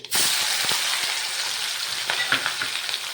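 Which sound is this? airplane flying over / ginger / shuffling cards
ginger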